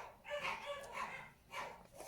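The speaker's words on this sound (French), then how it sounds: "Et mes chiens qui vont le raffut." Several dogs bark and yip in short bursts, somewhat distant and muffled, in an irregular pattern.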